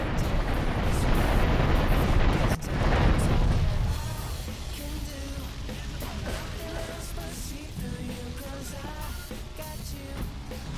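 A bomb detonates at the factory tanks in the GTA III video game, giving a loud, rumbling, roaring explosion that holds for several seconds, then settles into a lower burning and crackling din with scattered pops.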